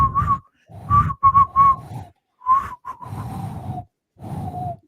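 A person trying to whistle, producing short breathy, wavering whistle tones in separate bursts with airy gasps between attempts, close and fairly loud.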